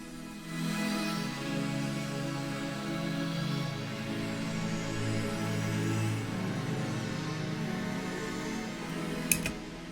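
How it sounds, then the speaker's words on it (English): A soft synth pad from the Gravity instrument plays a slow chord progression for a smooth ambient RnB track, sustained and warm with gently shifting chords and a faint click near the end. "I'm also hearing a pad just to fill in some space."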